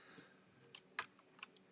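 A computer keyboard is being typed on with a few sparse, crisp key clicks spaced irregularly, close and fairly quiet in a silent room.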